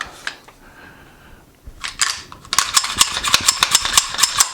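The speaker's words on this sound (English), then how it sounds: "racking the slide a couple of times" The slide of a Canik TP9 SF full-size pistol is worked by hand, producing a few quiet clicks that build into a string of close, sharp metallic clacks and rattles.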